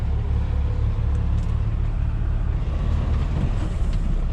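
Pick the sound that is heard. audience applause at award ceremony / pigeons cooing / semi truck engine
semi truck engine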